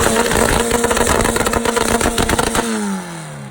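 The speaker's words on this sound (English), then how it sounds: "It's pure Honda power right there. That's that VTEC engine, baby." A Honda VTEC engine at a car meet revs in rapid, rough pulses, loud and close, before the note falls away into a lower, smoother tone.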